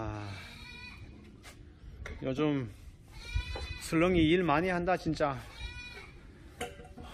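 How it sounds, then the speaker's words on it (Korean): A goat bleats at a farm at night, with several wavering calls rising clearly over ongoing talk, loudest midway and trailing off near the end. "염소가 매 하는 소리 들리죠?"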